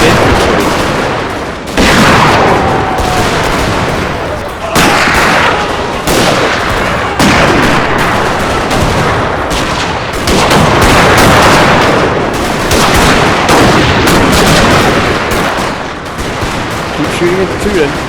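Volleys of Civil War musket fire crackle across a Total War battlefield at Bull Run, dense and continuous with repeated sharp bursts. A voice talks over the gunfire.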